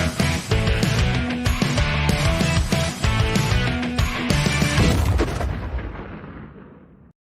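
Meme-style explosion sound effect: a loud, dense blast with heavy booming rumble and crackling bursts sustained for several seconds before tapering into a fading tail.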